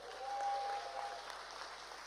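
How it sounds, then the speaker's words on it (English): Applause at a startup pitch contest for the contestants, a soft, distant wash of many hands clapping that swells briefly and then holds steady. "a big round of applause for our contestants."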